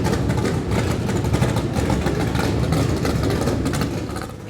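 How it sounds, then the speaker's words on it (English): IROC series race cars idle together at the Monterey Motorsport Reunion pre-reunion. Their engines make a dense, steady, loud rumble without pause. "These are all the IROC series cars."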